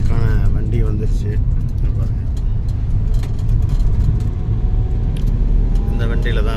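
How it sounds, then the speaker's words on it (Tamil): A tour vehicle drives on a road in Thailand toward the boat point for James Bond Island, with a loud, steady engine rumble and road noise throughout and voices speaking at the start and end. "இந்த வண்டியில் தான் இப்போ போகிறோம்."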